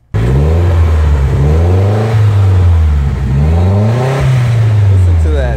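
A BMW E30 with a turbocharged M42 engine and a Twister resonator revs loudly up and down in repeated rising and falling sweeps, close and steady throughout.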